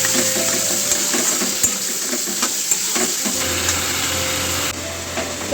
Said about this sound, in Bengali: তো সবজিটা কিছুক্ষণ ভাজা হোক